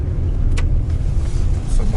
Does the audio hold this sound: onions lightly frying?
no